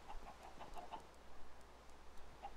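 Chickens clucking in Minecraft, a quiet run of short clucks in quick succession, then a single cluck after a pause, over faint background noise.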